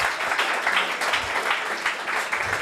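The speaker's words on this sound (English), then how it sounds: "let's give the kids a round of applause" Audience members applaud schoolchildren at a pitch competition evening with a dense, continuous round of hand clapping that stays loud and even throughout, with no voices over it.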